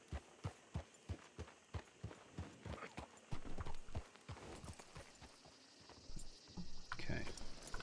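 Horse hooves clip-clop steadily in Red Dead Redemption 2, an even walking rhythm of crisp, close hoofbeats that grows busier and mixes with other game noise toward the end.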